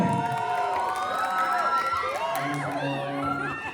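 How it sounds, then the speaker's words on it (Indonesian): A crowd cheers and claps for Tristan Molina, with whoops and children's shouts rising over steady, fairly loud clapping throughout a few seconds. "tepuk tangan buat Tristan"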